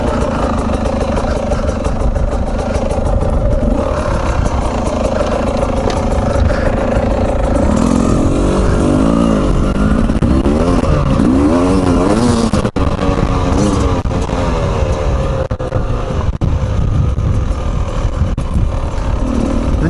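Beta RR300 motorcycle engine running close and loud for the whole stretch, with a wavering rev rising and falling midway and some mechanical clatter over the steady drone.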